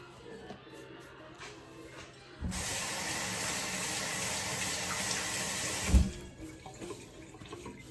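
Tap water gushes into a kitchen sink for a few seconds as hands are washed, a close, steady splashing hiss that starts abruptly and stops with a small thump, quiet room tone around it.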